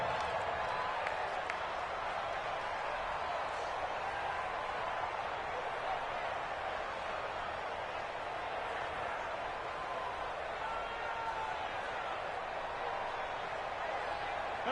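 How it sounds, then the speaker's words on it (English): Stadium crowd in a football video game on PS4, a steady, dense roar of cheering and applause throughout, loud and unbroken, with a voice speaking faintly within it. "the crowd getting into it as we come up on a big 3rd down"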